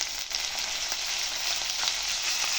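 Ginger garlic paste frying with onion paste in oil produces a soft, even sizzling hiss throughout, with faint stirring movement and no voices.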